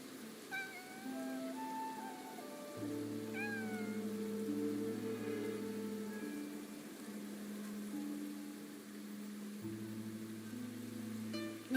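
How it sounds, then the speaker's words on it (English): A cat meowing in the video game Infinity Nikki, a few short rising mews drifting over a steady background music bed with sustained low tones, moderately quiet and with no talking. "that cat that just passed by stopped making any sound"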